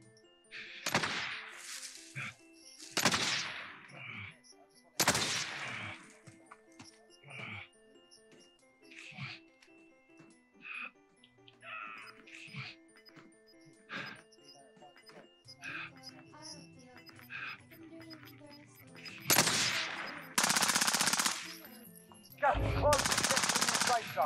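Gunfire in the Warzone video game: bursts of automatic rifle and machine-gun fire, some loud and close, others lighter and scattered, with players talking over the shooting throughout.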